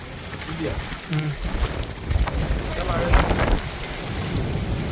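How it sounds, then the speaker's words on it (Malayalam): Strong wind blowing dust during rain gives a broad, loud rushing roar with heavy rain hiss throughout, and a voice speaks briefly early on. "കാറ്റ് കണ്ടില്ലേ പൊടിക്കാറ്റാണ് പോണത്"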